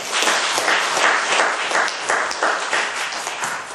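A church congregation at a Korean Methodist Sunday afternoon service claps in unison, giving loud, rhythmic, evenly spaced bursts of many hands for several seconds.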